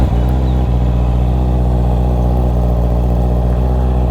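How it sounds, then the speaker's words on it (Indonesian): A 2020 Honda CB650R motorcycle with an Akrapovic exhaust idles after a cold start, its engine holding a steady, loud, even rumble close by with no voices. "mungkin kita coba cold start dulu kali ya"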